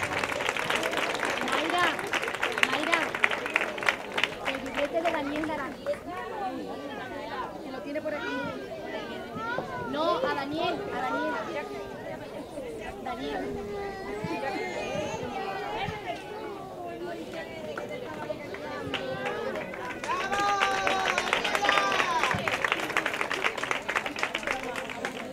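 Applause from families and children at an end-of-year school ceremony, clapping strongest at the start and again near the end, with steady children's chatter and voices throughout.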